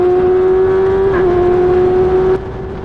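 Race car in an F1000 race at Cadwell Park held at full throttle, a loud steady high engine note sustained close up, dropping slightly in level near the end.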